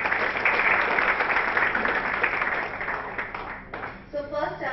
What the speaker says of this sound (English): A round of applause for all our winners